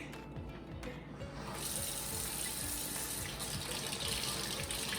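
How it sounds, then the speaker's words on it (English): Tap water runs into a kitchen sink over a houseplant as bugs are rinsed off its leaves. The water starts softly, then becomes a steady, fuller gush that continues to the end. "I'm just gonna tip it into the sink and we're just gonna wash off each little individual bug."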